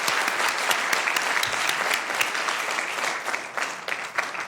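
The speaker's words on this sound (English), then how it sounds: "another round of applause for the Jade Dragons." At a Sacramento city council meeting, an audience applauds with a dense, steady patter of many hands, close and sustained for several seconds before it begins to thin out.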